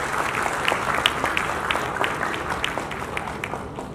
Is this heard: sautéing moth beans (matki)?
no